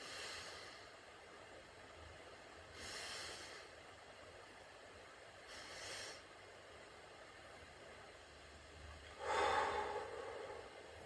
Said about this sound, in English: Belly breathing again, breathe in, inflate the stomach.